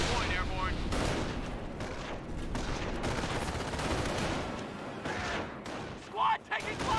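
Gunfire crackles in the World War II strategy game Company of Heroes, set at Omaha. Dense overlapping shots and bursts run without a break, with game voices calling out over the firefight.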